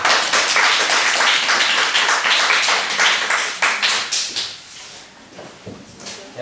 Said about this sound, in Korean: 우리 모두에게 박수치고 마십시다.